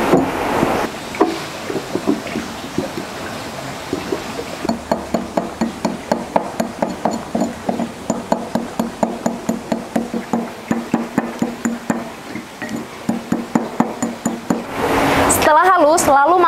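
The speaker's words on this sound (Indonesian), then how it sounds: "Selanjutnya, kita menggerus vitamin sampai dengan halus." Ten vitamin B1 tablets ground in a mortar with a pestle: a fast, regular series of sharp knocking and scraping strokes, close and fairly loud, ending in a brief gritty grind.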